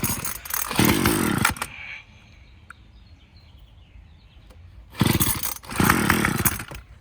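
A small engine with a carburetor rebuilt from random parts, behaving as if flooded, roars up harshly in two short close bursts separated by several seconds of near silence, never settling into a steady run.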